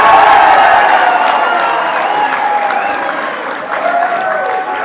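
Loud audience applause fills an event hall honoring a speaker, a dense sustained clapping with some cheering that gradually tapers off.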